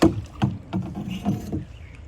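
Rhythmic oar strokes of a rowboat at a resort near Dhaka dip and splash through water, about five strokes in a couple of seconds, close and fairly steady.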